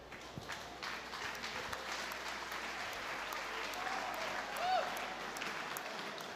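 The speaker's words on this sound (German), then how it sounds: "Herzlichen Dank an alle und einen grossen Applaus." Audience applause at a livestock sale evening event, a sustained dense clapping that swells slightly toward the end, heard at moderate distance with light crowd murmur underneath.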